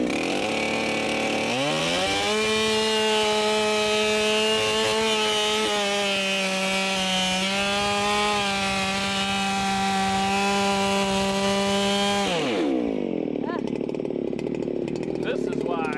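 A chainsaw bucks big oak firewood held on forks: the engine runs loud and steady at high revs for a long stretch, then drops sharply as the cut ends.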